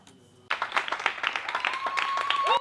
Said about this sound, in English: Every evening, Spaniards go to their balconies to applaud and show support to the health workers